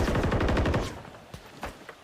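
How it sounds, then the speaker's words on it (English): Rapid bursts of automatic gunfire in a Rainbow Six Siege–style tactical shooter match crackle loudly at first, then a few scattered single shots follow, with no talk. "Couple of gunshots rattle out."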